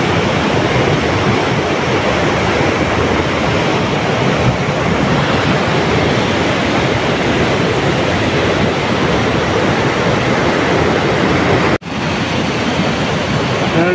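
A river beside a mountain road between Khechuperi Tathang and Darap Bazar rushes with a loud, constant roar, and the broadband wash never lets up. A brief knock breaks in near the end.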